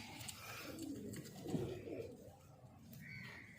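Soft, repeated pigeon coos over a busy, murmuring background, fairly faint and continuous.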